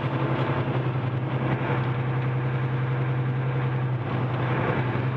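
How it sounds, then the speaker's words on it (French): A steady car engine hums and drones throughout, a constant low rumble with road noise, no voices present. "on entend un petit peu le moteur parce qu'on est un petit peu en accélération"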